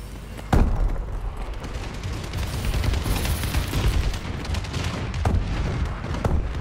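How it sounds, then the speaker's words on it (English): Bombs from a friendly air strike land during a multiplayer shooter match: a sharp close blast opens, then a steady roar of distant detonations and gunfire rumbles on with a few more cracks. "Friendly bombing run incoming."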